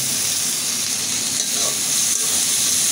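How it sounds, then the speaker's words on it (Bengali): Spice paste fries in a pan while being stirred, producing a continuous loud, close sizzle with steady hiss and occasional soft scraping, no talking. "আমি এভাবে ভালো করে মশলাটা আগে কষিয়ে নেব।"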